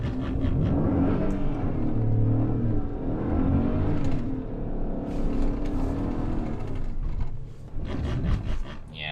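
A GMC Yukon SUV stuck in driveway snow, engine revving hard in sustained, wavering surges as the wheels strain, close and loud throughout with brief dips in effort.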